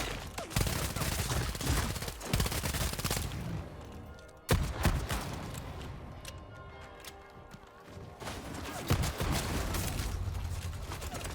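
Sustained gunfire from a firefight in the video game Bloodhunt, dense rapid bursts of shots with brief lulls, loud and continuous throughout with impacts and mechanical clatter in the mix.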